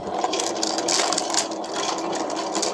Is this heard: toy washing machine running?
yes